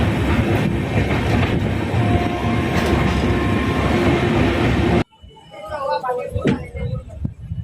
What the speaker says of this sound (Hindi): अब अपनी ट्रेन आगरा फोर्ट के बाद अपने पहले स्टॉपेज भरतपुर जंक्शन पर पहुंचने वाली है